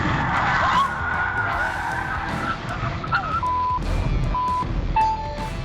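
A Hyundai clips the front of a semi truck and spins, with tires skidding and squealing amid road noise, while intermittent electronic beeps sound over the commotion.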